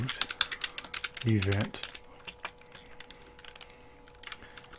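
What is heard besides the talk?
typing a folder name on a computer keyboard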